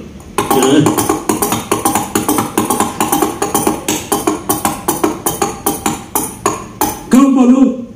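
Two halves of a coconut shell are knocked together to imitate horse hooves. They make a steady, loud run of hollow clip-clop knocks for several seconds, with a voice briefly at the very end.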